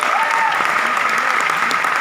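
A crowd in a seminar hall in Bandra, Mumbai, claps loudly and continuously to welcome guests onto the stage, a thick, even wash of applause.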